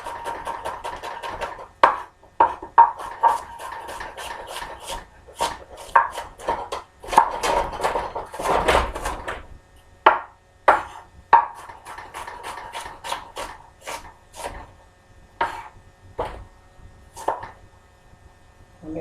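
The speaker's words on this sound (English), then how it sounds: "I'm going to cut our onion down" A knife chops through a large onion on a cutting board, cutting it in half with a series of sharp, fairly close knocks in uneven rhythm, some in quick bursts, over low background noise.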